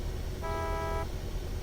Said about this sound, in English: See what the horn sounds like.